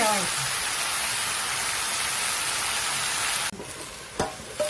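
Dill leaves dropped into hot oil tempering in a pan hiss and sizzle loudly and steadily up close, then the sound cuts off abruptly near the end, leaving a few faint clatters.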